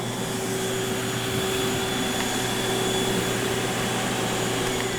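A steady, loud machine drone with a constant whine runs throughout, like the vacuum motor of a Bona Power Scrubber floor cleaning machine operating close by, picking up cleaning solution.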